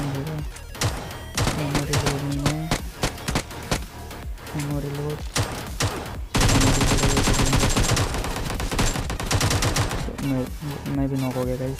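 Gunfire in the video game Battlegrounds Mobile India comes as rapid bursts and single sharp shots, loud and repeated, with a dense continuous volley in the middle and scattered shots either side.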